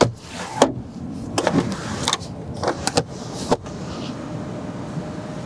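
Sunroof motor of a low-mileage 1995 Ford Taurus SHO whirs inside the cabin, broken by several sharp clicks and thumps as the panel moves, close and moderately loud over steady interior hum.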